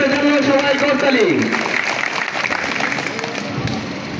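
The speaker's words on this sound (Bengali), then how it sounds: "জনাব জালাল উদ্দিন আহমেদের জন্য সবাই করতালি" A crowd claps for Jalal Uddin Ahmed at an outdoor political rally held on a college field in Baliadangi, with dense applause sustained throughout and an announcer's voice heard over it at the start.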